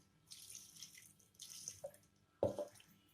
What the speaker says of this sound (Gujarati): હવે આપણે એમાં થોડું પાણી એડ કરીશું